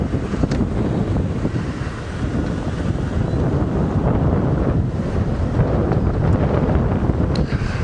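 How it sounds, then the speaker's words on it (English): Strong wind buffets the microphone during an early-morning safari drive in an open vehicle, a loud continuous roar with gusty swells and no talk. "Oh, the wind's picked up a lot here."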